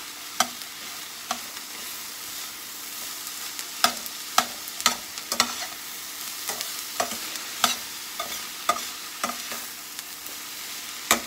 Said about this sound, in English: let me stir this around just a minute